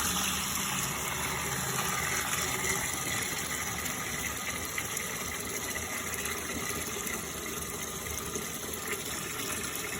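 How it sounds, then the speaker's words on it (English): Water gushes steadily into a pot being filled for duck waxing, a constant broadband rushing at moderate level with a faint tonal hum beneath, continuous for about ten seconds. "So I usually begin by filling up my pot."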